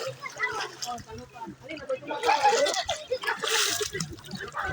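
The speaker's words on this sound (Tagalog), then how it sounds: "uning sapa diri" Water from a clear stream splashes and burbles steadily close by while people talk over it throughout.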